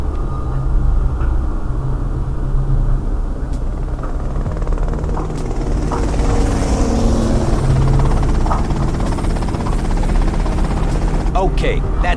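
A helicopter flies in GTA Vice City, a steady rotor and engine rumble running throughout amid other game sounds, with a voice speaking over it.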